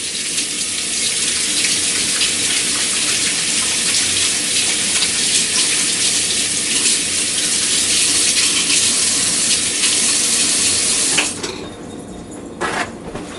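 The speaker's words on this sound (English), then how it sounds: "as soon as I wash my hands off" Tap water runs steadily from a faucet as hands are washed in a kitchen sink while peaches and cream crisp is being made, a continuous broadband rush lasting about eleven seconds before the flow cuts off, followed by a few faint clinks.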